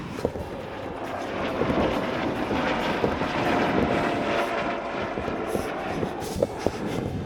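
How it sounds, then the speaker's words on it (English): A yellow helicopter passes nearby outdoors in Austria or Slovakia, its rotor producing a steady broadband roar with a faint rhythmic chop that holds at a fairly constant level throughout. "I don't know what a yellow helicopter means or what it's used for, but there's one of them."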